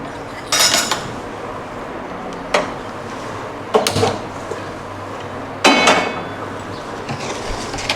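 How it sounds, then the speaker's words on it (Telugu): Metal pan set down on a kitchen stove, several sharp clanks and knocks spaced a couple of seconds apart, close and fairly loud over a steady low background hum. "స్టవ్ ఆన్ చేసుకుని ప్యాన్ పెట్టుకుందాం"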